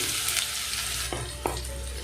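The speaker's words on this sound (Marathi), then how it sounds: "बारीक चिरलेला कांदा टाकणार आहे मी इथे" Finely chopped onion hisses steadily in a hot pan, a continuous broadband sizzle with a couple of brief stirring clatters near the end, close and moderately loud with no talking.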